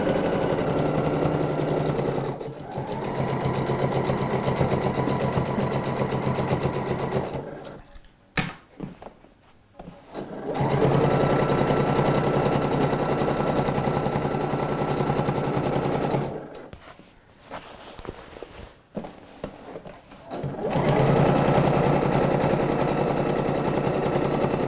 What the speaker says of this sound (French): Je fais ma piqûre à 2 mm côté dos de la couture d'assemblage.